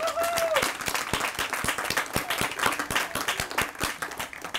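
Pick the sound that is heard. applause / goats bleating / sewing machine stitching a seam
applause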